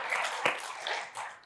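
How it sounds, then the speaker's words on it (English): An audience at a fireside chat event claps briefly in a continuous wash of applause, fairly faint and steady throughout. "give yourselves a round of applause for getting here 2 or 3 days after Thanksgiving"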